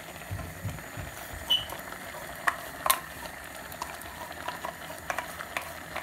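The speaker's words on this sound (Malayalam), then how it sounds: "ഇനി ഇതിലേക്ക് നമുക്ക് തേങ്ങ അരച്ച് വെച്ചിട്ടുള്ള തേങ്ങ നമുക്ക് ഇതിലേക്ക് ചേർക്കാം." Ground coconut is added and stirred into pineapple pachadi cooking in a pan, with a soft, steady bubbling and sizzling bed broken by occasional light scrapes and clinks of a spoon, and no talking.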